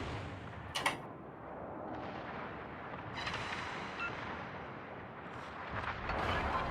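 Video game gunfire and artillery booms go off in scattered bursts against a constant rumbling battle din, with a sharp crack near the start and heavier fire toward the end, and no talking.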